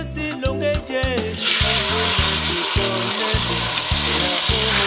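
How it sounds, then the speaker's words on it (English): Pureed tomatoes hit hot oil, setting off a loud, steady sizzle after a brief stretch of music. A rhythmic musical beat continues underneath the frying. "Warm up your oil and add your pureed tomatoes."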